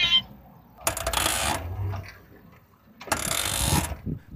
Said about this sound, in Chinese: 应该还是传动部件发出来的声音，因为它是随着轮子的转动产生的噪音